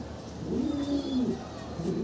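Pigeons coo in a loft where single birds, including white and red Danish pigeons, are kept, giving a low steady murmuring coo over roughly two seconds with faint bird sounds around it.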